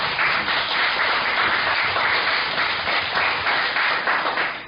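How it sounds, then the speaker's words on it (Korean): Congratulatory applause from a group celebrating sisters passing the national nursing licensing exam, a dense, steady wash of many hands clapping that holds evenly throughout before tapering slightly at the end. "축하의 박수 한번"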